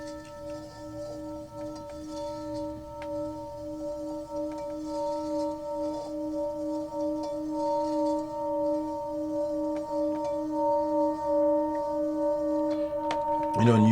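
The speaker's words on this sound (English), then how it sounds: "So I made a piece using the sound of the bowl. And you play it with a dowel." A metal bowl struck and rubbed with a dowel, sustaining several steady, pure ringing tones that hum close and evenly, building slightly louder toward the end, with no talking.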